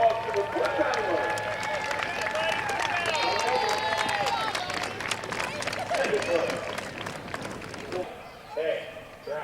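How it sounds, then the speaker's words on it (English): Crowd at the Midvale Speedway clapping and cheering for a foot-pedal racer, a steady wash of applause and chatter with scattered whistles and voices, fading near the end. "How about a big round of applause for the foot pedaler?"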